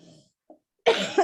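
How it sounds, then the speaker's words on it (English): Someone gives a sharp, close cough in two quick bursts after a short pause and a faint throat click, with a trailing voice sound just before. "Just got this funny cough, sorry."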